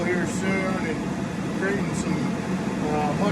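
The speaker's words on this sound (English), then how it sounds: "10-inch ribbon burner" A homemade propane ribbon burner, 10 inches long on a 1.5-inch tube, built from a propane tank and used for forging Damascus steel, roars with a steady broadband rush. Someone talks over the continuous sound.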